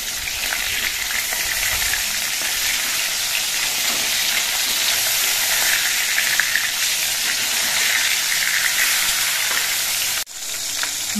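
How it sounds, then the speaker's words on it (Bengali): Rohu fish pieces frying in a pan, a loud dense continuous sizzle and spatter filling the whole stretch, close and steady without talk, with a brief dip near the end. "মাছগুলোর এক কিছুক্ষণ ভাজা হওয়ার পর মাছগুলো আমি উল্টে দিচ্ছি।"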